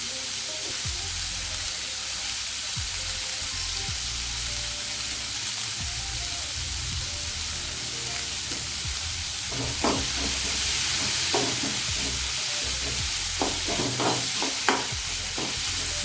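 Chopped onions sautéing in a pan for a Tamil cabbage kootu or poriyal, with a steady broadband sizzle and soft stirring scrapes that grow busier and louder in the second half.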